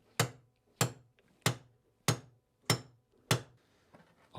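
Six sharp, evenly spaced hammer blows drive a punch against a nail on a trunk handle, each strike crisp and close with a short ringing decay.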